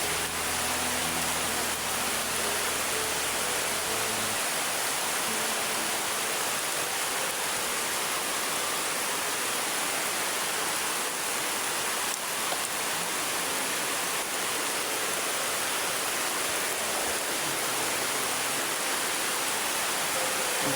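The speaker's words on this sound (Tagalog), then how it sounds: "Grabe pa, sobra pang lakas ng ulan." Heavy rain pours down with rushing runoff water during a storm while people shelter under a few trees, a steady dense roar throughout, with a low rumble fading after the first few seconds.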